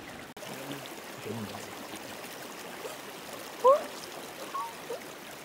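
An ice-cold mountain stream in Gatlinburg, Tennessee rushes as a soft, steady wash of water heard from nearby, with a couple of brief faint bird-like chirps over it.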